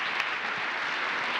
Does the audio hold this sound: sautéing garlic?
no